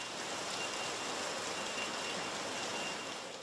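Heavy rain pours down in a steady, dense wash of hiss and patter, loud and unbroken throughout with no voices.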